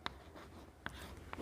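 Marker or chalk strokes on a classroom board during a science lesson, a few short faint scratches close together.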